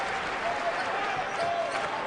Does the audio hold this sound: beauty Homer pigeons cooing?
no